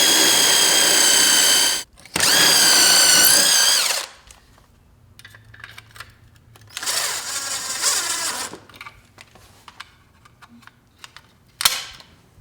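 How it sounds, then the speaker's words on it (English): A power drill whines loudly in two bursts, then quieter grinding and rattling, a third drilling run, and a final brief whir, while drilling a hole for a plastic screw anchor during a gate opener installation. "we'll drill it out, and then we'll put one of these plastic inserts in for the screw anchor"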